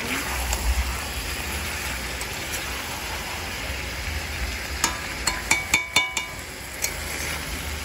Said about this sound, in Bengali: লঙ্কা সব দিয়ে এখন নাড়ছি